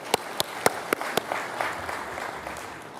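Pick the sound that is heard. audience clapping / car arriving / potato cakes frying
audience clapping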